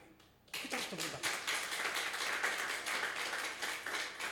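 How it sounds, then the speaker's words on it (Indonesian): Congregation at a Sunday worship service breaks into hand clapping after a short quiet moment, a brisk, fairly steady patter of many hands with voices mixed in. "Kita harus tepuk tangan."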